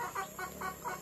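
A person's voice imitates a rooster's crow as a short run of about four or five rhythmic, nasal, clucking bursts, close and clear with no other talk.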